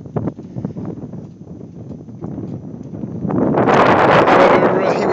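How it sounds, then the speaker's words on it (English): Strong roadside wind near Winton, Queensland buffets the microphone, rumbling and gusting louder toward the end, with a person speaking underneath. "it's quite windy, so you might have trouble hearing me"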